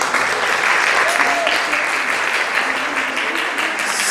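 Audience applause for Ashwin, lead dancer and choreographer of the Surati Dance Company, at a Holi festival press conference; steady, dense clapping fills the room throughout, with some voices mixed in.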